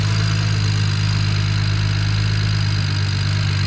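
A BMW E90/E93 335i engine idles in its open engine bay, a loud, steady, close mechanical drone with a constant low hum and no revving throughout.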